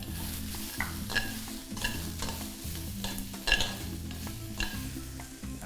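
Garlic and shallots sizzling as they are stir-fried in a pan, with steady frying hiss and repeated scraping strokes of a utensil against the pan, close and continuous with no talking.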